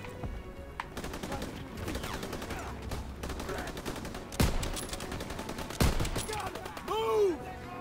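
Gunfire from a World War II battle in Call of Duty: WWII, with rapid shots and bursts running under a busy battlefield mix, a few louder sharp cracks standing out, and a voice talking over the action.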